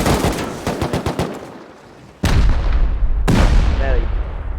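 Rapid automatic gunfire in the video game Rust rattles in a quick burst, then two loud sharp booming shots ring out with lingering echo.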